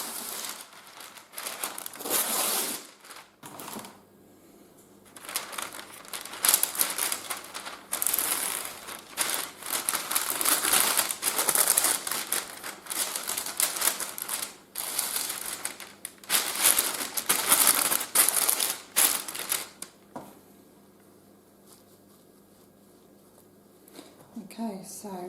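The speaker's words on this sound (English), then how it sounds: "going to line the tray with some baking paper, just so that as it dries it doesn't stick to the tray" Baking paper is crinkled and pressed into a tray to line it before drying mint leaves, giving close, loud bursts of rustling and crackling broken by brief pauses and a few quieter moments.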